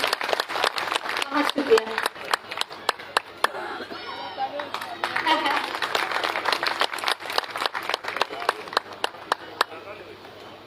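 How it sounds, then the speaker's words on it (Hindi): An audience claps in a sharp, even rhythm for the speaker's father at a Buddhist gathering in Sarnath, as a voice speaks over the clapping. "तो एक बार जोरदार ताली आप मेरे पापा के लिए बजाएं।"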